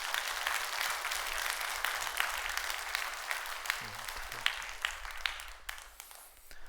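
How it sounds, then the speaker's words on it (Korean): A church congregation at a Sunday afternoon service gives steady applause, close and continuous, with a few brief murmuring voices underneath before it tapers near the end. "여러분 크게 박수 한번 해주셔요."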